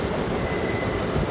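A passenger train running from Pothanur to Thrissur moves along the track with a loud, continuous rumble of wheels on rails and a faint thin squeal above it, steady without a break.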